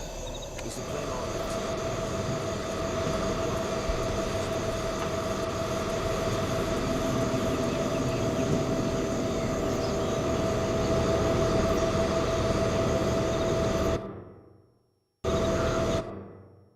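Aircraft engine running in the stealth video game Splinter Cell Pandora Tomorrow, a loud sustained droning hum with a steady tonal whine, cutting off abruptly near the end before briefly resuming.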